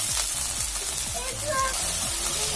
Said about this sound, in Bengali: মশলাটা খুব সুন্দর করে কষিয়ে নিতে হবে